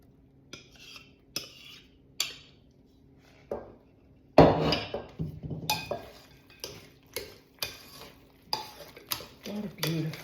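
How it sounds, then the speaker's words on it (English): A whisk works through sourdough waffle batter in a bowl, making bursts of scraping and clinking strokes separated by short pauses, close and moderately loud. "Here's my whisk again. Let's incorporate this."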